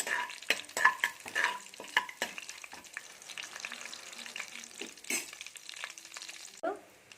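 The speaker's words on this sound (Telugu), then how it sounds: "బిర్యానీ మసాలాన్ని వేసుకోండి వేసి రైట్గా ఫ్రై అవనివ్వాలి" Biryani masala frying in hot oil in a pan for bagara rice, a soft sizzle with scraping spoon stirs and light clinks, close and fairly quiet, ending in a brief hiss.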